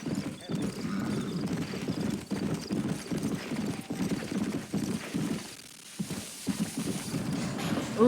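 Horses walking in Red Dead, steady clip-clop hoofbeats with occasional whinnies, close and moderately loud over a low rumbling game soundscape, with talk in the background.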